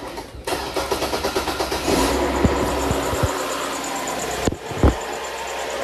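A Cadillac SRX with an ECM class 2 malfunction cranks in a rapid rhythmic starter chug for about a second, then catches and settles into a steady idle close by, with a few clicks and knocks.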